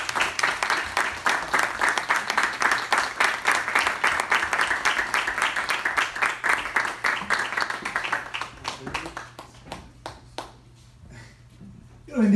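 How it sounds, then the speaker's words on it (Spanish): A church congregation claps in sustained, dense applause that tapers into scattered claps near the end, heard at moderate distance with a voice faintly audible beneath. "yo quiero que por favor con un gran aplauso nosotros recibamos"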